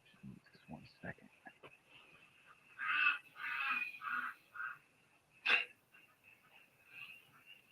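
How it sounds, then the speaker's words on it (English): Ducks quacking outdoors, a few brief nasal calls in short bursts, faint and somewhat distant, mixed with sporadic nearby sounds and a voice. "Can you guys hear my ducks out there?"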